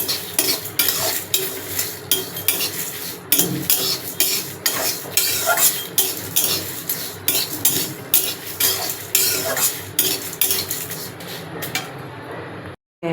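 Whole spices dry-roasted in a dry kadai, stirred with a utensil in a steady rhythm of repeated scraping, rattling strokes against the metal, loud and close, stopping abruptly at the end.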